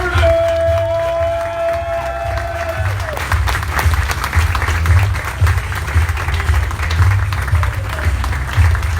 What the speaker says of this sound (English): Another big round of applause to the 59th Mayor, Richard C. Irvin.